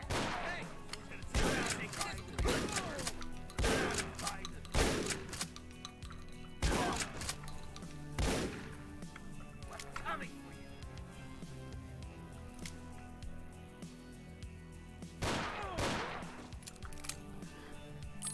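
Repeated heavy gunfire bursts in the shooter game Ashes 2063 from enemies firing shotguns, each blast booming and then fading, about a dozen of them irregularly spaced over a continuous game soundtrack.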